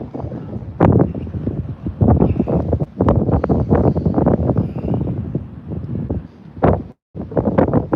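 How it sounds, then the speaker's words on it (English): Wind blows outdoors on Palawan Island, buffeting the microphone in loud, gusty rumbling bursts that rise and fall steadily, with one brief drop near the end. "you can see the dust blowing off because it is a little still windy here"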